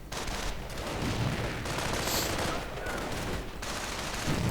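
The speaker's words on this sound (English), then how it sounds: "A lot of munitions right there being expended by Gravemouth to hold the line." Dense gunfire from riflemen and grenadiers in a World War II strategy game battle, a sustained barrage of overlapping shots and bursts filling the scene with no pauses.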